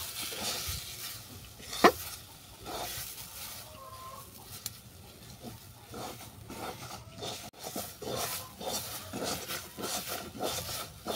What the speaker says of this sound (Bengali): এইভাবে নেড়ে চেড়ে মোচাটাকে ভালো করে কষিয়ে নেব যতক্ষণ না কোণা থেকে উঠে আসছে